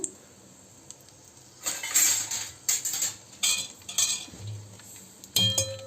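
A utensil repeatedly scrapes and clinks in a pan of cashews and raisins frying in ghee, in bursts of metallic stirring over a faint low sizzle, close by with no voices.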